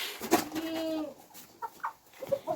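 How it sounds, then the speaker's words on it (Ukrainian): A chicken clucks and squawks nearby in a short burst among four-month-old hens and roosters, with faint farmyard background noise and a few softer bird calls following. "Наші півні вже дорослі, і кури вже дорослі. Півні грають із курочками нашими."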